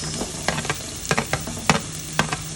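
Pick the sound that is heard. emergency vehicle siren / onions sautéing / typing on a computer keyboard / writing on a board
onions sautéing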